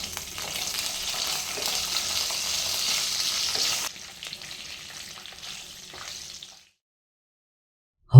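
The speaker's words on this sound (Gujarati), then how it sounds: "હવે તેમાં કટ કરેલા મરચાં ઉમેરી દઈએ અને હવે મરચાંને 1 મિનિટ સાંતળી લઈએ" Cut green chillies sautéing in oil with cumin and carom seeds, a close, bright sizzle that drops to a quieter crackle midway and then fades to silence.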